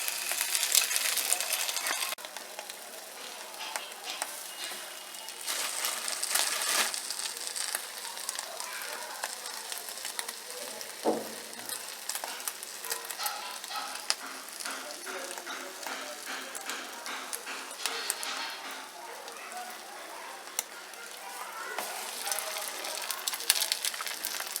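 Bread dipped in egg sizzles steadily in a pan on a stove, a soft, continuous frying crackle that runs throughout with a voice faintly present over it.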